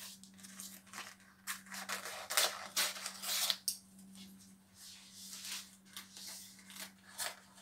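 Scissors trimming excess baking paper around a quiche mould, with a run of crisp snipping and crinkling cuts, moderately close, over a steady low hum and no talk.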